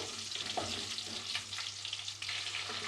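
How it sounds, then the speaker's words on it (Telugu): Onions and curry leaves frying in oil for Tamil Nadu-style small-onion sambar, a dense continuous sizzle with faint stirring scrapes, steady and close, with no voices. "ఇప్పుడు మనం ఈ ఉల్లిపాయలని ఇందులో వేసేసుకోవాలి వేసేసుకొని కొద్దిగా దారులుగా ఫ్రై చేసుకోవాలి"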